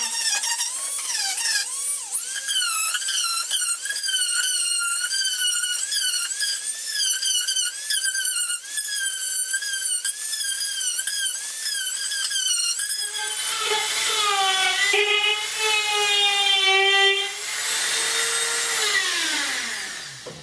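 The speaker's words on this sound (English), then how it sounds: "So we're going to take a Dremel and we're going to clean up the edges quickly." A Dremel rotary tool fitted with sandpaper smooths the edges of a wooden side table, producing a steady high whine that rises and falls in pitch as the load changes, loud and close with no talking.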